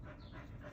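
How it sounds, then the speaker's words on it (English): Faint, quick breathy panting from a dog on a hot day, heard softly in the background of a quiet indoor space, with a brief click at the end. "You guys could probably hear my dog panting in the background."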